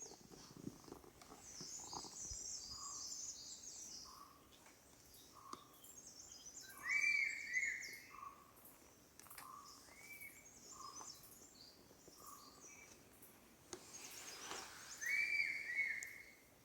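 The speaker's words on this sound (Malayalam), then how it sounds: "ഈ പക്ഷികളുടെ സൗണ്ട് ശ്രദ്ധിച്ച് കേട്ടോണേ." Birds sing in a forest where people live, with short, bright chirps repeating at a steady pace. A few louder calls ring out close by over a soft, continuous woodland hum, and no one speaks.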